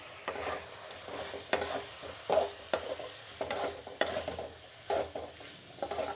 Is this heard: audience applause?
no